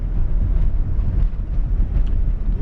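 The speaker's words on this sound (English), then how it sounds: "it's so windy that it's pushing me over" Strong wind buffeting a microphone beside a back road, a loud, steady low rumbling roar with gusty surges and no speech.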